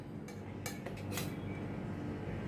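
A knife cuts cooled besan gatte into pieces on a plate, giving a few faint clinks and taps against the plate over a steady low background hum.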